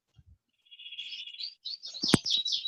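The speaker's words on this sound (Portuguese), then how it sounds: "Tem um passarinho participando da aula aí, ele estava dando a resposta." Small bird chirping and twittering during an online class, starting with soft scattered notes and building into a louder, busy run of bright chirps near the end, with no speech over it.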